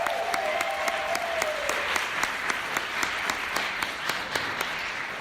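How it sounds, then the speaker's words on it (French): Steady audience applause fills an awards-night gathering, a dense wash of clapping with a few sharper individual claps standing out, moderately loud and continuous throughout. "Je pense qu'il mérite une bonne main d'applaudissements."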